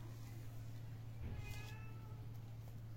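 A cat gives a single faint meow over a steady low hum in a quiet room.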